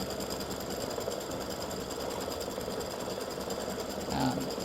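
An embroidery machine stitches a gnome's beard design, a steady, continuous mechanical whir with rapid needle rhythm running throughout at moderate level, with a brief louder knock near the end.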